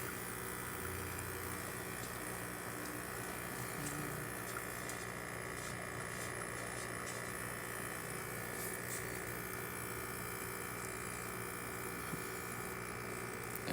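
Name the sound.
espresso machine pulling a shot through the portafilter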